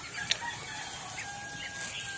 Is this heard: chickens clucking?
yes